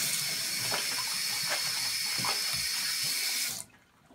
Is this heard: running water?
yes